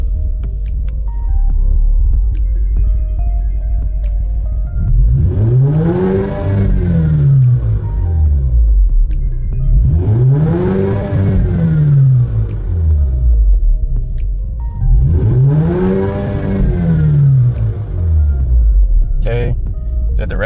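An Alfa Romeo Giulia with a 2.0-litre turbocharged engine revs three times in a steady cycle, each loud rev rising and falling smoothly over a constant idle rumble, with no talking.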